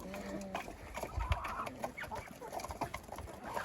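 Chickens clucking in a farmyard, scattered short calls overlapping at moderate distance, with background rustle and no talking.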